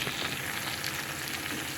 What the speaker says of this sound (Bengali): এখানে সব সবজি ভাজতে দিয়েছি